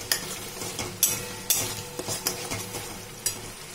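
A paste of melon seeds, fennel and ginger is stirred in a pan, with soft sizzling under scattered sharp spoon-on-metal clinks and scrapes, close, no talk.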